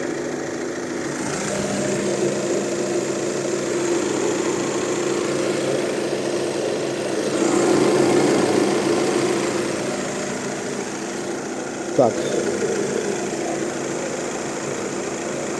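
A 2014 VW Touran 2.0 TDI 140 PS diesel with a DSG6 gearbox idles steadily, not yet fully warmed up, with a constant close rumble and a brief click partway through; a single short word is spoken.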